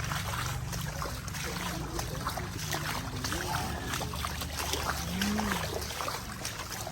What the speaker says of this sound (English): I have to wade through the water.